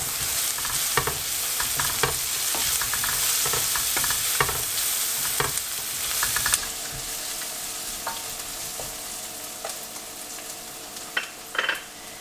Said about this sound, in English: Now while these onions are frying